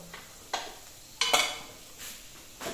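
Faint sizzling from a hot pan with a few sharp bursts of crackling and spattering as tempering spices, including mustard seeds, hit hot oil, with no voices.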